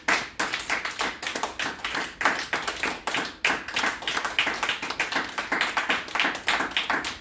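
A church congregation applauds during a worship service, with dense, sustained hand clapping filling the room loudly and steadily throughout.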